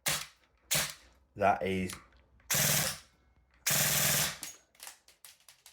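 Airsoft gun fitted with a T238 brushless motor firing in loud full-auto bursts at a very high rate, several sharp rattling volleys separated by short pauses, with someone briefly speaking between them.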